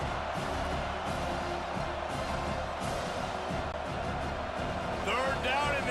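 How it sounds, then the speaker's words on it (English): A stadium crowd roars continuously in the College Football 25 video game, a dense wash of cheering beneath a commentator's voice, with a few whistles and whoops rising near the end. "Third down, and this crowd is tearing the lid off this place"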